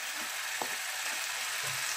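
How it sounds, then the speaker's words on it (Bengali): Mashed boiled potato drops into a frying pan, a soft thump over a steady broadband sizzle of hot oil, with faint scraping and stirring afterward. "এবারে আমরা এই ম্যাশ করে নেওয়া সেদ্ধ আলুটা দিয়ে দেব।"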